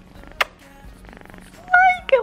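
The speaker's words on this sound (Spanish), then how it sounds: "está ronroneando" A domestic cat purring close by, a low rumbling purr running beneath a woman's affectionate speech and a couple of brighter vocal sounds near the end.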